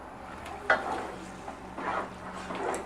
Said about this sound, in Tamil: தயிர் ஆட் பண்ணி நல்லா கிளறிட்டுக்கோங்க.